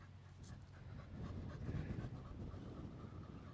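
A dog pants softly and steadily at close range, a quiet rhythmic breathing over a low background hum.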